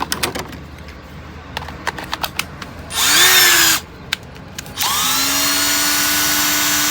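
A Bosch cordless drill set to maximum torque whirs in two short bursts, a brief high spin that stops, then a longer steady whine, preceded by light clicks and handling taps.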